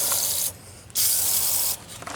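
PB Blaster penetrating oil hisses from an aerosol can onto the rear bumper bolts of a first-generation Ram truck in two close, sharp bursts of about half a second each, with a quieter stretch between them.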